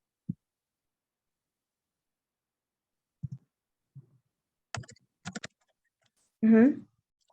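Computer keyboard keys are tapped in a few sparse, isolated clicks separated by silence, with a brief voiced sound near the end.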